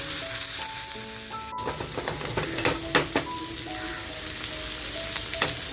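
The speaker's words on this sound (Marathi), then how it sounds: "थोडासा बघा कढीपत्ता तेलात टाकलाय" Curry leaves sizzle in hot oil for a rawas fish fry, a close, crackling spatter with sharp pops and bursts rising midway over a steady frying hiss, no speech.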